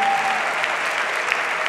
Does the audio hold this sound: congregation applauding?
yes